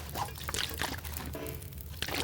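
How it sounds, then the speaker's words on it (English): About two liters of water pour out from a container in a cave shelter, a soft sloshing gush with trickling splashes, fairly quiet and heard alone. "Going to drop 2 liters of water"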